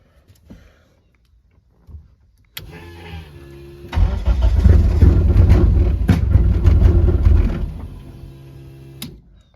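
A Mitsubishi Eclipse SRT4 engine running MegaSquirt engine management cranks loudly and steadily for several seconds and nearly catches, after a few sharp clicks and a brief whir. The cranking then fades out.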